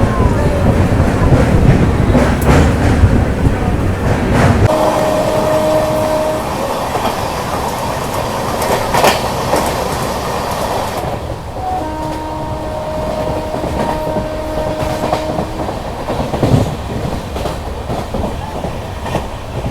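Passenger train running on the tracks during a journey toward Ramnagar, with a loud continuous rumble and clickety-clack of wheels, intermittent horn tones, and a noisy carriage interior.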